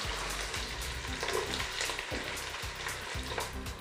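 Three long-sliced medium onions and green chillies frying in oil for chicken palav, a loud crackling sizzle with steady stirring strokes, close and continuous, nobody talking.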